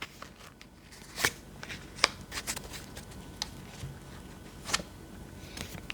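Tarot cards being shuffled by hand: soft papery riffles and sharp slaps in irregular bursts, close and fairly quiet, with no talking.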